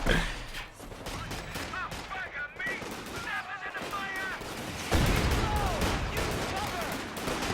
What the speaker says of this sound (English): Mortars trading blows.